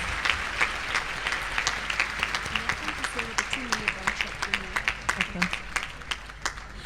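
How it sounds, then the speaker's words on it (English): A crowd at a university welcome day applauds the house committees seated among them, a moderate ongoing round of clapping heard from some distance, with a voice speaking faintly underneath. "can we please give them a round of applause?"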